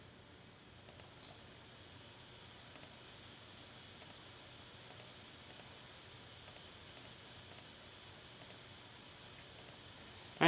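Faint, sparse mouse clicks at a computer during Photoshop editing, a dozen or so light ticks spread irregularly over a steady low fan-like hum, with no talking.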